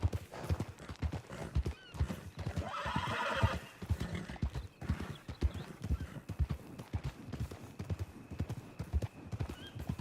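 In Red Dead Redemption 2, a horse's hooves clip-clop in a steady galloping rhythm close by, with a loud neigh rising briefly partway through over the hoofbeats.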